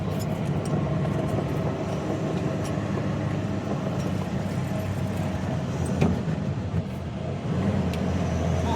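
A truck engine running steadily while climbing a ghat road between Mumbai and Bengaluru, a continuous low rumble heard from inside the cab, even and moderately loud throughout.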